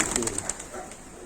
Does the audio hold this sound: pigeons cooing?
yes